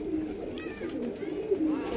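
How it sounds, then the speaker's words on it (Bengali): A pair of blue chequer racing pigeons coo nearby, soft low throaty calls rolling on continuously with no other sound. "এখানে এক জোড়া ব্লু চেকার পায়রা আছে। এটা রেসার পায়রা আছে"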